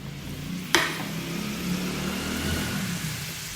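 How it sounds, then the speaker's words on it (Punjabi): Cumin seeds and curry leaves drop into hot oil with a sudden sharp crackle, then settle into a steady, moderate sizzle that carries on close and even for a few seconds. "ਆਇਲ ਦੇ ਵਿੱਚ ਆਪਾਂ ਜੀਰਾ ਤੇ ਕੜੀ ਪੱਤਾ ਪਾਵਾਂਗੇ"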